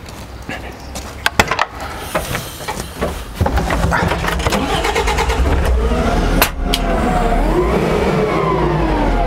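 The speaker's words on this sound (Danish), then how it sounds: "Nu henter jeg lige trukken, og så prøver jeg lige at tage en derhen og køre tilbage igen" A forklift truck engine cranks after some wooden knocks and clatter, catches, then runs and drives with a steady, fairly close mechanical drone and slight revving, with no talk.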